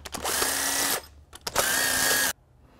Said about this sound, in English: so now we're just taking them out